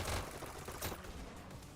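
SMG gunfire in a VR e-sports match, a quick, faint burst of rapid shots heard at a distance over ambient game noise, lasting under two seconds.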